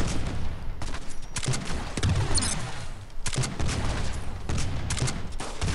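Rapid bursts of video-game gunfire from Armajet, loud and close, with repeated shot clusters and brief pauses between volleys.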